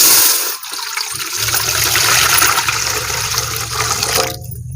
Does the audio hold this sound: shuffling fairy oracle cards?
no